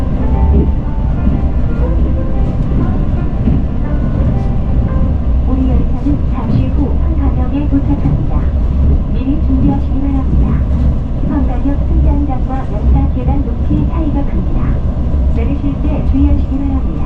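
A Mugunghwa passenger train on the Gyeongbu Line pulls into Hwanggan station, heard from inside the carriage as a steady, loud rumble and rattle that fills the whole stretch without a break.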